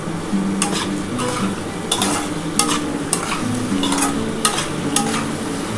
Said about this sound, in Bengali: এবার ভালো করে কিন্তু মশলাটা কষাতে হবে